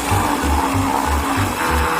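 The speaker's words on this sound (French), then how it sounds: "Je vais mixer le tout." A blender whirs steadily while mixing vanilla ice cream with butter and cheese, running close and loud for two seconds with a pulsing low motor hum.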